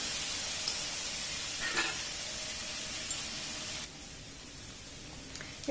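Okra sautés alone in a hot pan, giving a steady, close sizzle that holds evenly for several seconds and then drops to a quieter hiss.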